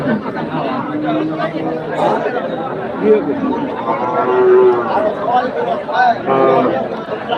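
Cattle, cows and calves, low now and then at a crowded rural cattle market in winter, with the moos mostly half-buried under nearby people talking and haggling and general crowd chatter.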